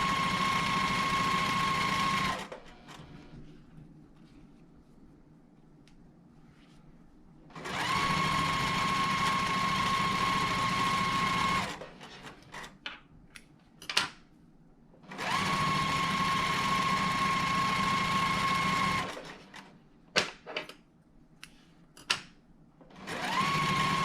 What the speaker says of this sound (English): And then I'll just continue sewing those, and then we're going to get a bunch of half square triangles